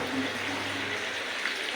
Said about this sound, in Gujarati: એક ગ્લાસ ભરીને પાણી નાખી દો એટલે રસો થઈ જાય એમાં